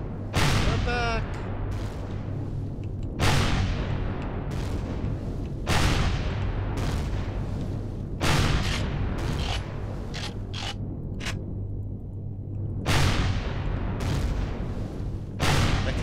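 Gunshots ring out in Empyrion - Galactic Survival, sharp loud reports repeating at irregular intervals, some in quick clusters, amid rumbling background game sound and a talking player.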